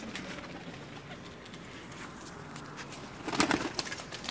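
Pigeons coo softly in a Pakistani pigeon-keeping setting, a low continuous murmur from several birds with a louder burst of cooing and rustling near the end.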